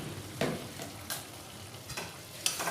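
Chicken pieces sauté in a pan with Kashmiri chili powder and a little sugar for a curry, sizzling steadily while a spoon stirs and scrapes in several short bursts.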